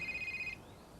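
A new mobile phone rings with a steady, pulsing electronic tone that stops partway through, leaving faint room noise behind; no one speaks.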